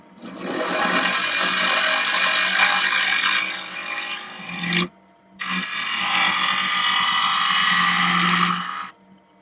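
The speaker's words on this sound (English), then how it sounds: "It's a negative rate scraper I'm using." A negative rake scraper works the bottom of a wooden bowl on a lathe, with a loud, steady rasping scrape. It breaks off for a moment, then carries on strongly before stopping, with no talking.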